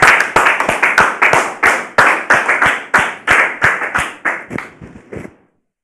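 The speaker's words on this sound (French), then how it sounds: "Merci de recevoir Monsieur Aliko sur vos applaudissements." An audience welcomes a guest with loud, rhythmic clapping in near unison, about twenty sharp claps at a steady beat that thin out and stop abruptly.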